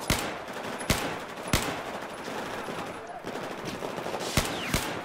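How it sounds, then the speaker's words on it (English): Fully automatic rifle fire in a military simulation shooter game, sharp shots ringing out at irregular intervals over a constant noisy battlefield din. "Maverick, careful, I'm firing fully auto behind you."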